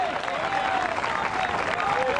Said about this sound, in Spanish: Un aplauso de alabanza para el Dios Todopoderoso